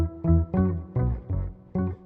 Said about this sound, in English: I'm going to turn my octave pedal on and add a bit of a higher octave.